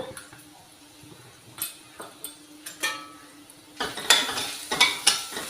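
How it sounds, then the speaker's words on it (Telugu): Spices fry in a pan for millet sambar rice, giving a soft sizzle under a series of close, sharp scrapes and clinks of a spoon stirring against the metal, building louder toward the end. "ఇవి బ్రౌన్ కలర్ వచ్చినంత వరకు వేయించుకోవాలన్నమాట"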